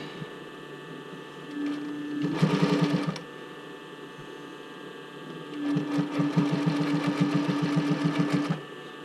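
A sewing machine stitches velvet bra cups onto a band in two bursts of rapid, even needle chatter, close and steady, with a quiet pause between runs.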